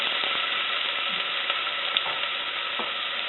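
Garlic and chili sizzle in hot oil for pork adobo, a loud, even crackle that is steady and close, with faint scrapes of stirring underneath.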